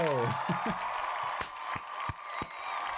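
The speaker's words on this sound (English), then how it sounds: "Look, you get applause." Applause sound effect played during a music production livestream after a raid, a short burst of clapping with a few sharp accents, mixed under someone talking.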